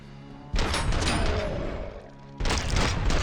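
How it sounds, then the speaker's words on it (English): Gunfire in the video game Robocop Rogue City, with two sustained bursts of rapid shots separated by a brief lull, loud and dense with thudding impacts. "Just kind of shooting in his vague direction."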